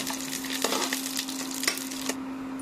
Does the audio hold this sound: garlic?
yes